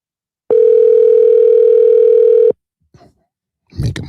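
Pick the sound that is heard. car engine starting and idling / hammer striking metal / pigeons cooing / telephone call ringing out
telephone call ringing out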